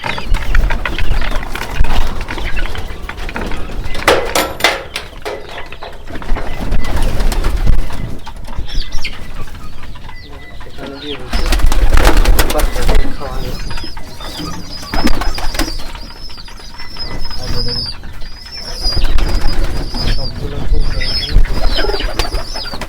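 Pigeons coo repeatedly at close range amid wing flutters and rustling handling noise as pigeon chicks are fed, with a voice speaking intermittently.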